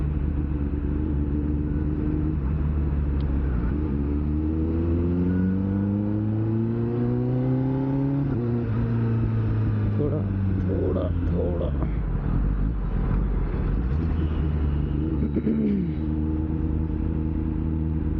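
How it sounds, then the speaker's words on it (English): Road traffic passes a Kawasaki ZX-10R motorcycle on a city road in the evening, with engines rising and falling in pitch as vehicles accelerate past. A steady, close rumble runs throughout, and voices can be heard faintly underneath. "थोड़ा ट्रैफिक तो है लेकिन चलता है"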